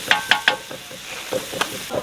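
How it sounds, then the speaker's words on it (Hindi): Ground masala with home-ground coriander fries in a large pot for a big village batch of chicken korma, with rhythmic ladle scrapes and metallic clinks over a soft sizzle. "और अब हम इसे अच्छी तरह से भून लेंगे मसाले को"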